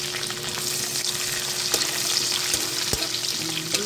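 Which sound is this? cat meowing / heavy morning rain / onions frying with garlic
onions frying with garlic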